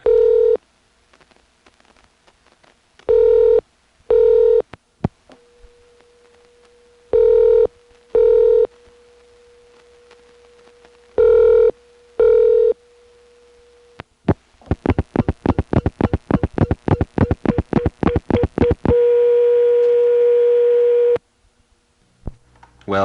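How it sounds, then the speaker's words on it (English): A 1983 1A ESS Centrex telephone line where unused three-way calling bridges drop out one by one: repeated busy-signal-style tone bursts with a steady tone between them, then rapid clicking pulses, ending in a single sustained high tone. "you'll hear the unused three-way calling bridges dropping out one by one, the high tone getting louder and louder"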